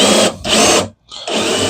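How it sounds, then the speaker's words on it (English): A handheld drill runs a Forstner bit in reverse against wood to score the top layer, giving a close, loud whirring grind in two bursts. The motor drops out briefly before revving up again. "With the forstner bits, go backwards, and it cuts the top layer."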